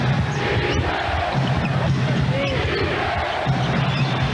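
A capacity crowd in a New Jersey basketball arena during an NBA Finals game keeps up a loud, steady rhythmic defense chant, a rumbling mass of voices with faint court noise underneath.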